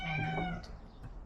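A cat gives one clear, drawn-out meow at close range, fading into quiet room noise.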